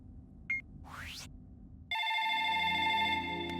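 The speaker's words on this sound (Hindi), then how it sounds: "Phone is ringing." A telephone ring with steady electronic tones starts partway through, loud and close, after a brief faint beep and a rising sweep.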